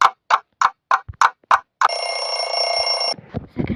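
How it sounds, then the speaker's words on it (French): Alarm clock ringing in the Avatar World video game: a series of short rapid bell bursts, then one sustained bright ring lasting over a second, loud and close, with a voice briefly after. "Je mets le son, comme ça vous entendez le réveil, il fait comment?"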